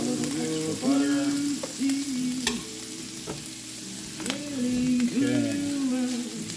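Butter and cheese frying in a hot pan give a steady crackling sizzle throughout, with a few louder stirring scrapes and taps over it, close by and with no talking.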